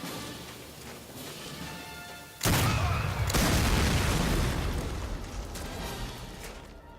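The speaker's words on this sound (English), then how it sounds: "This guy stood in front of the tank cannon and waited for it to blast him." Tank cannon firing in the video game Medal of Honor: Allied Assault Spearhead, a sudden loud boom that rolls into a long rumbling blast with a second burst, over a low background din.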